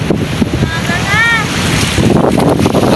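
Steady wind roars across the microphone in Subic, with a broad rushing noise and low buffeting throughout, and water sloshing faintly underneath.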